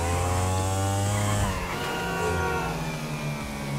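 A CB 600 RR motorcycle engine in GTA V drones with a loud, steady harmonic tone that drops in pitch partway through, then settles into an even idle-like hum with no talking.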